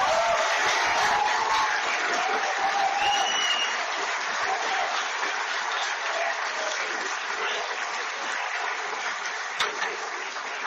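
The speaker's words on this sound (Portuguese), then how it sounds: "Aplaude mais alto, aplaude mais forte." A church congregation applauding, a dense, sustained clapping that holds at a fairly loud level for about ten seconds with a faint crowd murmur underneath.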